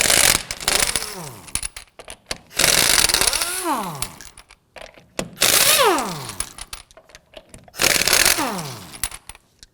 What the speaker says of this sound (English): we're going to use our 19mm socket to loosen and remove the lug nuts